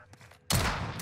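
A burst of gunfire in Call of Duty MW3 Warzone on the Rebirth Island map strikes the player, a sudden loud crackling volley cutting in halfway through after faint softer sounds.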